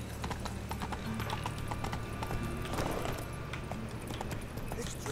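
A horse's hooves clip-clopping in a quick steady galloping rhythm in The Witcher 3, with continuous game background ambience beneath them.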